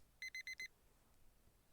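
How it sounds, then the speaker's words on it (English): A video game alarm clock rings four quick, identical electronic beeps in an even rhythm, then falls silent over faint background hiss. "Now that the alarm goes off."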